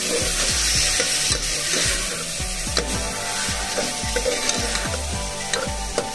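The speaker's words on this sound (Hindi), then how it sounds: "आता आपण वाल टाकूया याच्यामध्ये। कापून घेतलेला 1 बटाटा" Beans and a cut potato sizzle in a pan and are stirred, with steady frying hiss under regular scraping strokes of a spoon, close and continuous.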